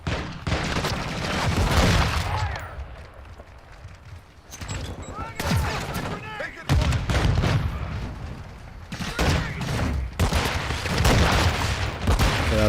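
Call of Duty League match gameplay with flashbang grenades and gunfire, dense rapid bursts of shots and booms in loud clusters separated by brief lulls, with voices talking over the action.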